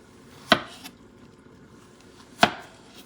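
A knife cuts plantains into wedges, making two sharp, separate chops against a board about two seconds apart, in a quiet room.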